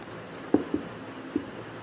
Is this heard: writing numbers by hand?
yes